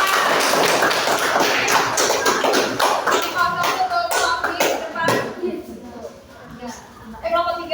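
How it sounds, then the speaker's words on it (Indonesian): A group claps hands in quick, uneven applause that gradually thins out, with voices chattering underneath. "tepuk tangan."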